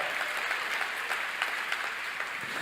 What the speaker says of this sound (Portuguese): Dá outra salva de palmas ao Senhor.